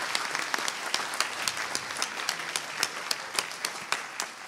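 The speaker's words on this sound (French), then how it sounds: "j'aimerais qu'on fasse un gros applaudissement pour les techniciens qui nous ont aidés pour la soirée." A concert audience claps for the technical crew in a steady round of applause with sharp individual claps standing out clearly over the crowd, holding at an even level throughout.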